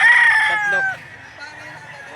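A rooster crows once, close and loud, at a livestock auction in Lipa City, Batangas, the call sliding down and trailing off into faint crowd murmur and a brief voice.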